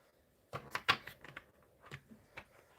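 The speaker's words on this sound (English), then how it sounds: "2 more shuffles." A deck of Aura Tarot cards being shuffled by hand, a few quick crisp riffling and tapping bursts close by, the loudest near the start, then softer scattered taps, with no talking.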